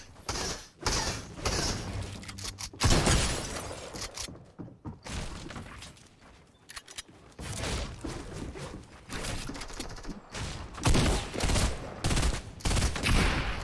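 Dense gunfire during a Fortnite match, with rapid volleys and single sharp shots coming in irregular bursts, some loud and close, others thinner, with brief lulls between.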